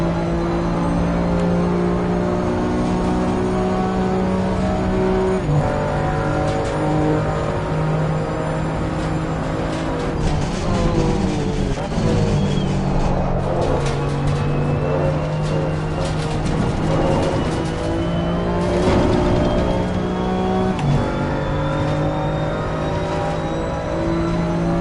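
A BMW TCX race car engine in a racing video game, a steady loud drone with rising and falling revs through gear changes, no talking.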